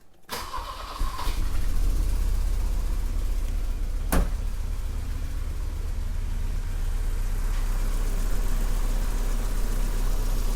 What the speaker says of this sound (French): toute caméra braquée sur le moteur, je m'apprête à démarrer